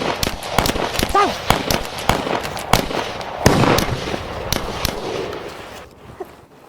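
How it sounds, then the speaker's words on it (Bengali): Gunfire in a village scene of a Bangladeshi Eid telefilm, a run of sharp, loud cracks at uneven intervals with short bursts of raised voices between shots. "গুলি করতেছে ওরা"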